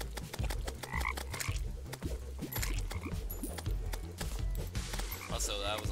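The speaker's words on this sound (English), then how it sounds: "That's a lot of toads." Toads croak over and over in the Terraria Calamity mod during an acid rain event, a dense, loud chorus of overlapping throaty croaks with a low rhythmic pulse of game sound underneath, and a voice speaks briefly.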